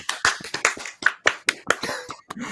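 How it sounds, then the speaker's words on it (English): Hands clapping on cue during a livestream, a run of sharp, close claps in an irregular rhythm over about two and a half seconds, with no talk over them. "Everybody clap your hands."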